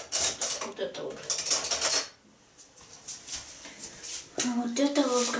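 A metal spoon clinks and scrapes against a dish in quick, irregular bursts, close by, with a short quiet gap and voices talking over it.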